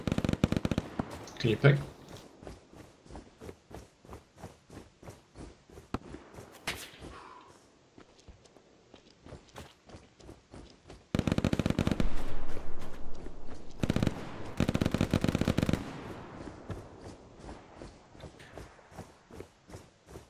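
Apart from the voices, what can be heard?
MG42 machine gun fire in Hell Let Loose video game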